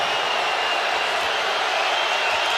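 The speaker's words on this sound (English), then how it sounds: "Crowd still here hoping for a miracle. Also here to cheer on." Steady broadband roar of a packed basketball arena crowd cheering at Game 6 of the 2019 NBA Finals, Golden State Warriors against Toronto Raptors, a continuous dense wash of voices throughout.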